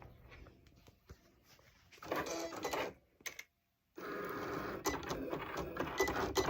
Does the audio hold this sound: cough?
no